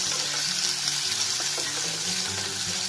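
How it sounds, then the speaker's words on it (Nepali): Chicken pieces frying hard in a pan over a high flame, with a loud, steady hiss and crackle and faint stirring scrapes throughout. "त्यसपछि यो हामीले चिकनलाई एकदमै राम्रोसँगले फ्राई गर्नुपर्छ।"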